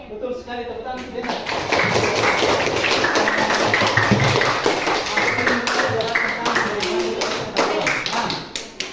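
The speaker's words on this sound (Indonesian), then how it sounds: "betul sekali, tepuk tangan Jana." Classroom children clap together in a lively, dense burst that starts after a second and runs to the end, with a teacher's voice briefly heard at the start.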